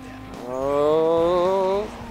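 A car engine in Need for Speed Most Wanted rises in a harmonic whine that swells and wavers for about a second and a half, loud and close, then cuts off sharply.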